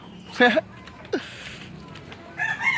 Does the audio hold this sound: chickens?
yes